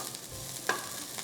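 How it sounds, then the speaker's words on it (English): Onions sizzle softly in a pan as they are stirred, a steady frying hiss with one sharper scrape or pop partway through, close and fairly quiet with no talking. "stir our onions a little bit. I smell them cooking already"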